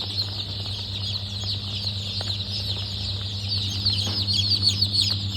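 Triveni laying hens, a hybrid of White Leghorn, native and Rhode Island Red fowl, cluck softly in a poultry shed over a constant low mechanical hum.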